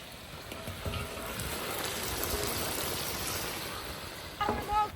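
Water rushes and splashes as it is poured into a cauldron of fried onions and carrots for plov, a steady gushing stream, near and moderately loud.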